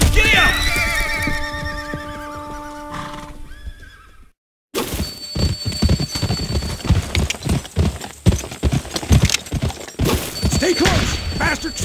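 Galloping horses in the Western video game GUN: rapid, loud clip-clop hoofbeats with horse whinnies and neighs, cutting out briefly to silence before the pounding gallop resumes amid game action noise.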